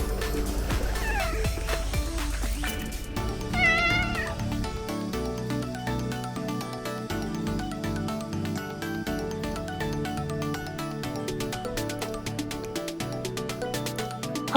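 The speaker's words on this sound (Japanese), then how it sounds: "他のキジ猫が寄ってきましたね" Cats meowing on Yushima, a cat island in Kumamoto, including a tabby: repeated close meows and calls over a steady bed of background music, continuous throughout.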